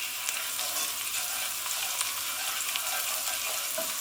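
Chard stalks frying in a pan, a dense, even crackling sizzle with faint stirring, close up and without talk.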